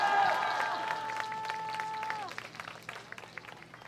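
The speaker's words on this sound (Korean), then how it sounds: "이은택 대표님한테 한 번 더 큰 박수 부탁드리겠습니다." Audience applause at a political youth rally in Korea, a crowd clapping steadily at moderate distance while a sustained musical tone and background voices fade out, leaving scattered claps.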